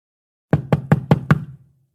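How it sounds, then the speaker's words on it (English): Five evenly spaced, solid knocks on a door in a video game ring out close and clear, with a short thud trailing off after the last. "The word knock is the sound of a door when you're using your hand to do it."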